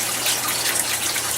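Water gushes steadily into a tank being filled for a drain test, a continuous broadband rush with no pauses and no voices.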